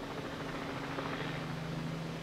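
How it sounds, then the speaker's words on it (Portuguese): Helicopters fly overhead during a rescue scene where a building collapsed, producing a steady, moderately faint drone with a constant low hum. "o barulho dos helicópteros está atrapalhando"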